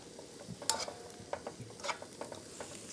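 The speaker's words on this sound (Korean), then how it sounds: "요거를 많이 볶아주시면서 우리가 이제 양념을 해요." Burdock root and whole garlic cloves stir-frying in a pan: a soft, fairly quiet sizzle under irregular scraping and clinking strokes of a spatula, with no one talking.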